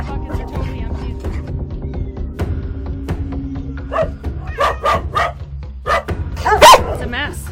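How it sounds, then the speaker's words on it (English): Several dogs bark and yip from neglected rescue pens, with a steady hum underneath and sharp barks growing more frequent and louder toward the end, alongside some background voices. "There are so many dogs in so many different places."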